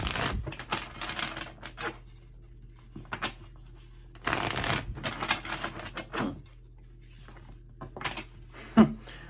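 Tarot cards shuffled in several separate bursts of crisp riffling and flicking, close and fairly loud, with quiet pauses between them.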